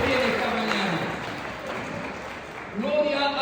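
A church congregation applauding during a morning service, a steady wash of clapping throughout that swells near the end, mixed with voices and tonal sounds.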